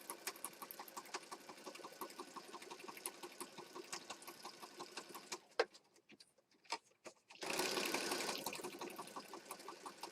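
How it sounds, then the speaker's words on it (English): Rapid, steady stitching from a sewing machine working through paper junk journal pages, quiet and close, pausing briefly before a louder burst of rushing noise near the end. "stitching away. Just a stitching."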